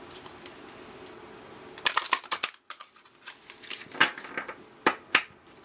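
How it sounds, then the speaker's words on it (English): Unicorn tarot cards being shuffled by hand, heard as a close flurry of papery riffles and slaps in the middle, then a few scattered softer card flicks. "I'm going to shuffle my unicorn cards one more time."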